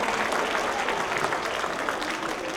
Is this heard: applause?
yes